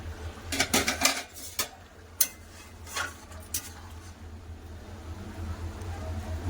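A lid is lifted off a cooking pot of ridge gourd and potatoes simmering in water, giving a few sharp metallic clinks and scrapes close by, then quieter scattered taps against a low kitchen hum.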